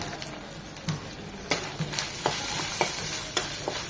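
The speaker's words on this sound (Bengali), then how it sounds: "সব কিছু তেলে 1 মিনিট ভেজে নেব।" Ground turmeric, chili and cumin with ginger fry in oil, giving a steady close sizzle under repeated scraping spoon strokes that come at an irregular rhythm.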